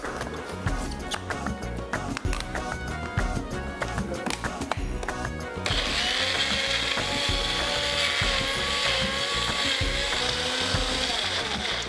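A kitchen mixer grinder works sprouted moong, spinach and green chili into a paste. At first it rattles and clatters loudly, then settles into a sustained, loud, whining motor drone until the end.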